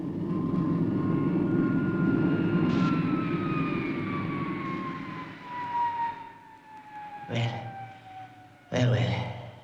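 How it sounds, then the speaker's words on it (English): A fictional aircraft-like supercar engine whines and roars at a falling pitch over several seconds. Sharp bursts come near the end, and the whole sound sits under background noise. "If it were not so unlikely, I should have said that was Supercar's engine"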